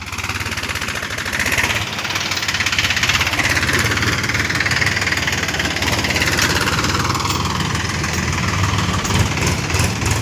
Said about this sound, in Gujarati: રેતીનું ટ્રેક્ટર ભરીને આવે છે ભાઈ